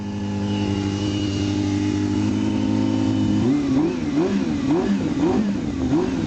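A 2001 Yamaha YZF600R engine idles steadily after a cold start, then gets blipped in a rhythmic series of quick revs, close and loud.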